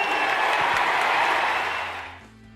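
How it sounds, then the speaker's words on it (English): A US Open arena crowd applauds Andre Agassi in a loud, dense wash of clapping that holds steady and then fades away over the final second. "The applause for Agassi went on for several minutes"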